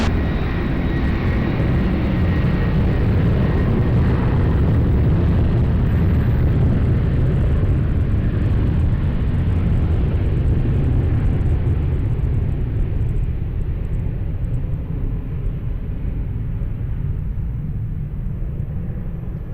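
An airliner approaching Lisbon Airport for runway 20 roars as a loud, broad rumbling drone that swells and then slowly fades as it passes, steady throughout with no voices over it.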